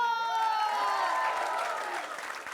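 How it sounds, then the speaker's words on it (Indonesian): An audience applauds on an Indonesian comedy variety show, a steady wash of clapping that holds for the whole stretch, with tonal music or voices sustained underneath. "Tepuk tangan dulu dong, Bu"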